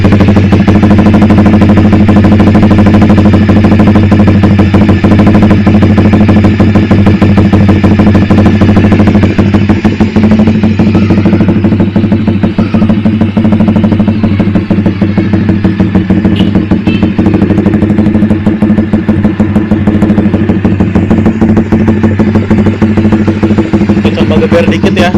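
A Honda Sonic 150 motorcycle fitted with a Pro Liner TR1 exhaust and no dB killer idles steadily and loudly up close, a deep continuous rumble with a faint clatter throughout.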